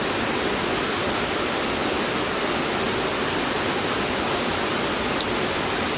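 Rushing water of the Kima Atas waterfall near Manado, a steady dense broadband roar that holds constant and loud throughout with no voices.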